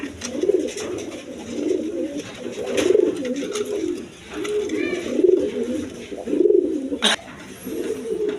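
A pair of Indian Kakji pigeons, a male and a female, coo repeatedly at close range, low throaty rolling calls coming in steady waves with a few faint chirps behind.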